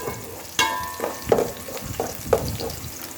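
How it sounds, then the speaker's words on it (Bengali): Chopped onion and garam masala fry in hot oil in a pan for pulao, a steady sizzle broken by about five sharp scraping stirs, close and fairly loud, with no talking. "এখন এগুলোকে একটু ভেজে দেব"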